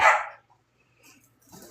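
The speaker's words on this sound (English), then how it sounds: "Everyone's just barking and yelling." A single sharp dog bark sounds nearby, followed by faint yips and scuffling in a quiet room.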